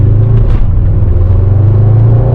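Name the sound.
Mercedes E63s AMG wagon twin turbo V8 engine revving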